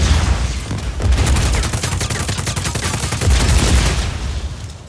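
Rapid gunfire from a standard-issue Black Hand service rifle fitted with an underbarrel grenade launcher in Just Cause 4, loud and dense bursts of sharp shots running almost continuously with heavy low-end thumps and no talking.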